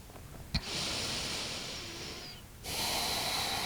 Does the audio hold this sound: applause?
no